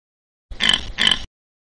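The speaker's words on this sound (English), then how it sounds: "Pig. Pig." A pig grunts twice in quick succession, two short rough snorts heard close and alone against silence.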